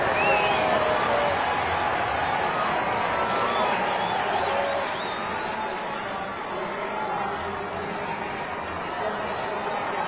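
A large stadium crowd roars and cheers steadily during a 10,000m track race, a dense continuous wash of voices and whistles that dips slightly midway and then swells again.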